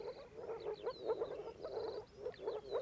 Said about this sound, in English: More frogs are next.